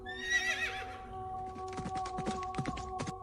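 A horse whinnies shrilly as a story sound effect, then hooves clop in a quick run of sharp beats over a steady low hum, fairly faint with no talking.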